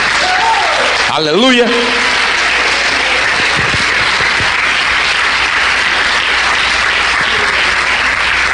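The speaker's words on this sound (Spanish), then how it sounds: "Dele un aplauso a Jesucristo." A church congregation applauds during a Holy Week service, sustained clapping under a voice that briefly calls out at the start.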